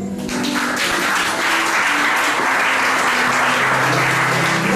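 Church congregation applauding and acclaiming Jesus during a service, loud sustained clapping from many hands filling the space, steady and continuous throughout.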